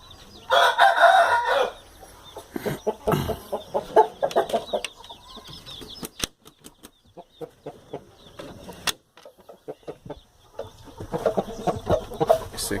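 A rooster crows loudly and close at the start, a long harmonic call, followed by scattered clucks and rustling from farm fowl in a yard, with another crow toward the end.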